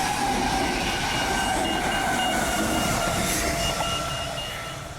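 An Armadale line train in Perth rumbles steadily past a pedestrian crossing at close range, with a continuous roar of wheels on rails and faint high squeals, easing slightly at the end.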